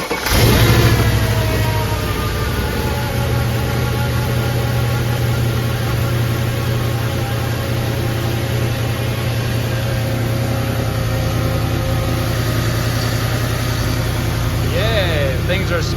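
A modified 640 hp Mercedes E55 AMG V8 runs after a new crank pulley install, a deep steady idle with a low rumbling drone and a slight rev, close and loud, with no talk heard.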